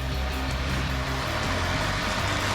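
An enduro motorcycle engine runs with a steady, low, throbbing idle, close and continuous, over a rough outdoor background.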